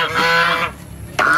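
Loud honking turkey calls, harsh and nasal, come in two bursts with a short quieter gap between them, close by.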